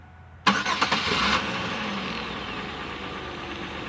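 A car engine, a 3.4L V6 in a GM minivan after a fuel pump replacement, cranks with a few rapid stutters, catches, and settles into a steady, fairly loud idle that continues to the end.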